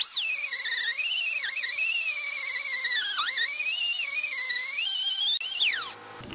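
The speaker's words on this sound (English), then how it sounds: "now we're going to switch to our air grinder, or die grinder, side grinder, whatever you want to call it" A pneumatic die grinder fitted with a 120 grit sandpaper-style disc works on a custom motorcycle build part, making a high, steady whine that dips and rises under load for several seconds, then spins down and stops.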